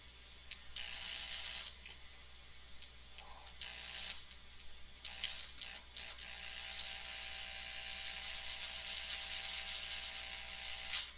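Screw being driven with a hand screwdriver while building a Tamiya TT02 road race RC car, a close, quiet series of rapid ratcheting ticks in bursts with brief pauses, then steady clicking.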